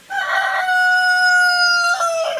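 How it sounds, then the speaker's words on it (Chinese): A single rooster crows loudly and close by, one long sustained cock-a-doodle-doo call with no talk over it. "哇，这个鸡叫得这么响亮"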